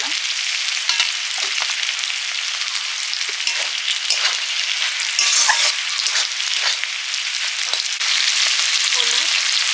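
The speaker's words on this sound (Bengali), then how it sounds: "শাক ভাজাটা হয়ে এসছে" Leafy greens (saag) frying in a pan: a steady, bright sizzle that crackles and spits in bursts, with occasional scraping from stirring, close up and alone with no voices.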